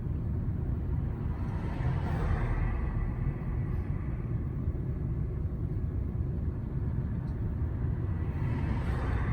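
An old truck drives along with a steady low engine rumble and road noise, constant and fairly loud throughout with no distinct changes and no talking.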